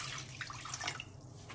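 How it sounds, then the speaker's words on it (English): Water pours steadily into a clean cooking pot for pasta in a home kitchen, a continuous close splashing rush that stays even throughout. "I'm adding some water."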